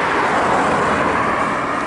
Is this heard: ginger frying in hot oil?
no